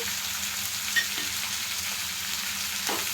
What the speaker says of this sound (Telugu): అన్నీ కూడా బాగా మెత్తబడేంత వరకు ఇలా వేయించేసుకున్నాము